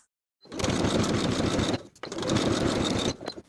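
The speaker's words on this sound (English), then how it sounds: "Sew the slanted edge with a 1/2 inch seam allowance." A sewing machine stitches a slanted pocket seam on carpenter pants, running steadily in two close, loud bursts with a short pause between them and no talk.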